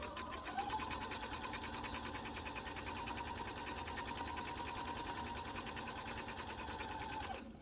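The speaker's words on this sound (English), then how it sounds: "this is a flatbed embroidery machine as well as a sewing machine" A flatbed embroidery and sewing machine stitches fabric for a memory bear, a steady, fast mechanical whir with a rapid needle rhythm running unbroken close by.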